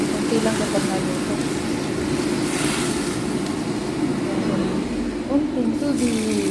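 Water poured into a cooking pot for a home-cooked lunch of sweet potato leaves and ladyfingers, a steady close splashing fill running throughout under a constant background hum.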